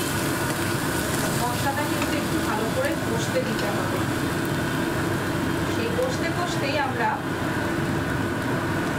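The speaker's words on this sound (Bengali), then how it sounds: "এই মশলাটা ভালো করে কষিয়ে নিতে হবে।" Spice masala frying and being stirred in a pan for a mourala fish and banana-flower kofta curry, with a steady close sizzle and scraping stirs running throughout.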